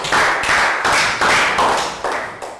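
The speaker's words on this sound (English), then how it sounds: "Round of applause for everybody, guys." A class of schoolchildren claps in short bursts, about six quick rounds of light, sharp hand claps close by, each trailing off before the next starts.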